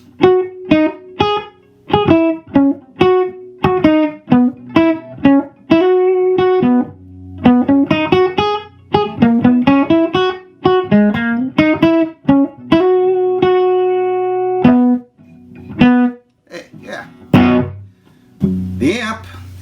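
A 1973 Gibson Les Paul played through a late-1960s Fender Vibrolux Reverb amp with a dead reverb: clean, close electric guitar picking a song in short plucked phrases and sustained notes, loud and alone with no talking.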